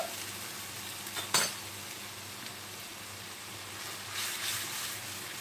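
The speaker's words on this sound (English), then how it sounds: "And what we need to do then is just stir all that together" Coconut milk being stirred into peanut butter chicken in a pan, with a soft continuous sizzle, a sharp utensil clink against the pan, and a brief swell of bubbling hiss, quiet and close with no talking.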